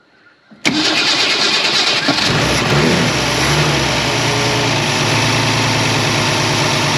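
A Ford Falcon wagon left parked in the woods for 38 years cranks briefly and fires up, then settles into a loud, steady rumbling run right up close, with a small rev bump soon after catching.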